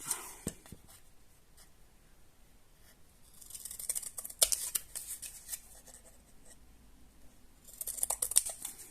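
Scissors cut through paper while making a fruit-and-vegetable truck craft, quiet snips and rustles at first, then a louder stretch of crisp cutting strokes with a sharp click in the middle and another burst near the end, no talking.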